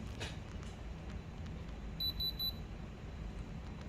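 A gemstone tester gives a short burst of quick, high electronic beeps against a faint room background.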